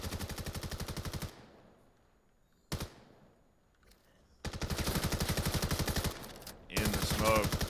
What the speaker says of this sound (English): Tries to disrupt, but doesn't connect the shots